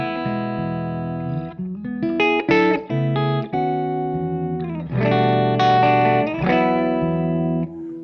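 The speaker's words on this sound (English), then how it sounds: "I'm playing through a stock Les Paul with throwback pickups in it" Electric guitar, a stock Les Paul with Throwback pickups, through a Jackson Ampworks Newcastle tube amp, with crunchy, sustained chords and quick picked runs, loud and close with no voices.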